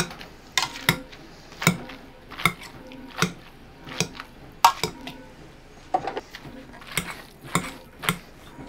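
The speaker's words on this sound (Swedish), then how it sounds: "Och då ska vi då stöta det här." Rutabaga, carrots and potatoes being mashed in a pot for Swedish rotmos with ham hock: a steady series of sharp metallic knocks and clinks of the masher against the pot, about one per second, fairly quiet and alone.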